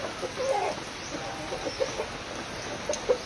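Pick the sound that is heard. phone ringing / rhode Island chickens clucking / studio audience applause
rhode Island chickens clucking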